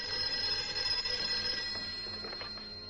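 An old telephone rings at home in a 1958 film scene, a thin sustained bell tone repeating in the background at moderate level, with some faint rustling toward the end.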